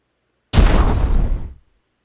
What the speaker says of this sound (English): There's a lot of explosions.